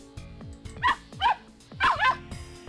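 Dog barking in the Ever 17 visual novel game, several short loud barks in an uneven rhythm standing out clearly over a low background score.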